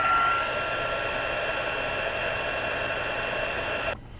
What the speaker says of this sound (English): Our heating tool is amazing because it comes with two settings